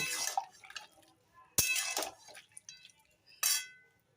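Shukto being stirred in a metal pot, with several sharp clinks and scrapes of a utensil against the pot rim spread across a few seconds, close and fairly loud against a quiet kitchen background.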